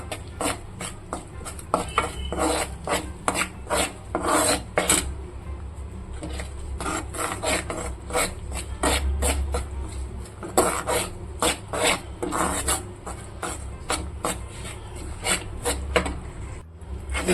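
Wheat flour roasting in ghee for halwa is stirred in a pan, giving a steady run of rapid scraping, rasping strokes close by with a low background hum and no talk.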